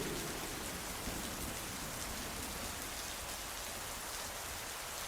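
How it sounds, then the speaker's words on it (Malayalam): Heavy rain pours steadily and loud throughout, a dense continuous hiss of drops drumming on surfaces with no pauses and no voices. "എന്തൊരു നശിച്ച മഴയാണിത്."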